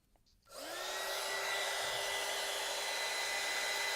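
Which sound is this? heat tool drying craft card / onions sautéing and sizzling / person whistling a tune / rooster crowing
heat tool drying craft card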